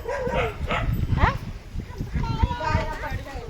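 A puppy gives a few high, yelping barks while out herding sheep, with people talking nearby in the background.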